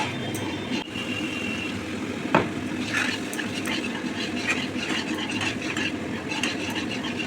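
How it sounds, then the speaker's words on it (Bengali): Spice masala being stir-fried in a pan with splashes of a little water, giving a steady soft scraping sizzle with occasional sharp spoon-on-pan clicks, close and alone. "সামান্য জল দিয়ে দিয়ে মশলাটা ভালো করে কষে নিতে হবে"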